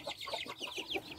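Russian crested hens cluck softly at close range in a poultry yard, a quick run of short repeated clucks and chirps at low volume.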